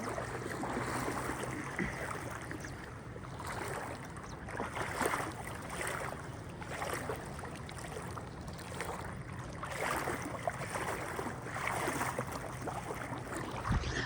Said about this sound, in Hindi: उधर देख रहे हो उस जगह पे सामने तेज़ पानी आ गया है